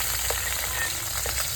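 Fish pieces fry in hot oil in a wok, a steady moderate sizzle with faint scattered pops and light stirring, no talk over it.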